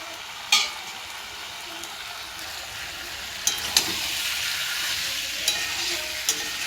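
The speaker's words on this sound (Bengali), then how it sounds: "মাটনটা ভালোভাবে নেড়েচেড়ে কষিয়ে রান্না করতে হবে, যেন মশলাগুলো কড়াইয়ের গায়ে লেগে না যায়।" Mutton cooked with spices is stirred and fried in a wok (kadai): a continuous sizzle with occasional sharp clicks of a spatula against the pan, fairly close and loud. No talk.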